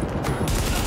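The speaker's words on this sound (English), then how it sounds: "Reporting gunfire in the station above us." Rapid gunfire from the video game Tom Clancy's The Division, a dense, loud burst of overlapping shots rattling continuously through the short moment.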